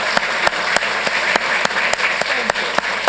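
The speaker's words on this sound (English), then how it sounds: "Let's give your parents a round of applause, please." A city council chamber audience applauds students' parents: a dense bed of clapping with sharp, evenly spaced nearby hand claps punching through, no talking.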